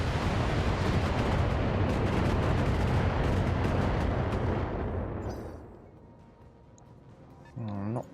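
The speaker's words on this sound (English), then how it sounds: "Firing all weapons." A mech fires all of its weapons in the BattleTech video game, a loud dense barrage of booming shots and rumbling blasts that holds for about five seconds, then fades into quieter game sounds.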